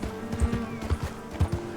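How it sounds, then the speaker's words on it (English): A horse's hooves clip-clop in the Red Dead video game, several distinct, fairly close thuds in an uneven walking rhythm over a faint steady background hum. "The horse's foot slipped off the side right there."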